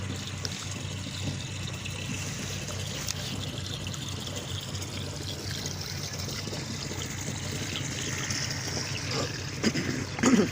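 Steady rushing and trickling water runs continuously, like a container being filled, with a broad hiss throughout and a few louder splashes near the end.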